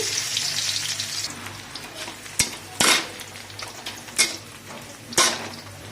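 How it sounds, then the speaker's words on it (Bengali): Onion and garlic go into hot mustard oil in a wok, and a steady sizzling hiss follows, broken by a few sharp clanks and scrapes of a utensil against the pan. "সর্ষের তেল গরম হয়ে গেছে পেঁয়াজ দিয়ে দিচ্ছি রসুন দিয়ে দিচ্ছি"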